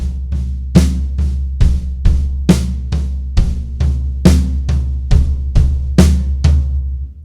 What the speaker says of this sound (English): I could play the beat that I was just playing on the floor tom